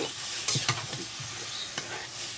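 Pangas fish fries in a wok with boiled onions while a spatula stirs it, giving a steady close-up sizzle broken by several sharp scraping clacks.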